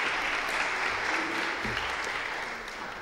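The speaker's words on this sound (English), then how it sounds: "Let's give Cadence another round of applause." Audience applause fills a pre-election hui, steady dense clapping throughout at close range, easing slightly near the end with no talk over it.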